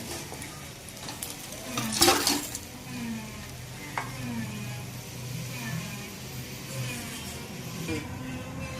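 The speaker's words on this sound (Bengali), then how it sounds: "মাছের মাথা ভাজা হয়ে গেছে" Fish head frying in oil in a pan, a steady close sizzle with scraping stir strokes and a sharp clatter near the start.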